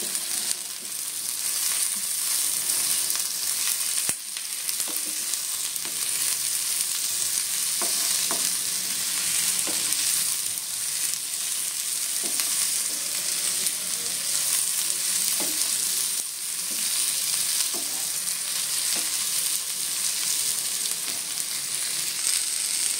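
A tomato sizzling and frying in a pan while being stirred, a steady bright hiss with scattered soft scraping knocks from the stirring, close and continuous without speech.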